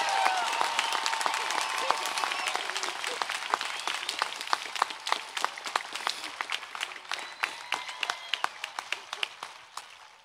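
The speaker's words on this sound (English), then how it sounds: "Please give him and his family a round of applause for this incredible" Applause from a commencement audience at a college graduation ceremony, broad and sustained at first, then thinning out into sparser individual claps toward the end, with faint voices and cheers mixed in.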